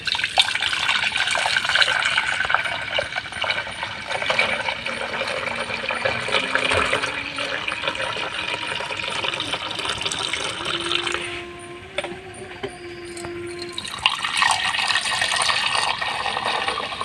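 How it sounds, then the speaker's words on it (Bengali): Milk is poured into a pot in a village kitchen for homemade yogurt, a steady close liquid stream and splash running throughout, shifting in tone partway as the vessel fills. "এখন আমি দুধটা ঢেলে দিব।"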